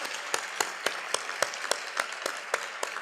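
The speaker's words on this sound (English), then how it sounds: "Give them a big round of applause, all the organizers in the previous years." Applause for event organizers at a KDD business lunch, faint and somewhat distant, with a steady patter of clapping and regularly spaced louder claps from one nearby pair of hands.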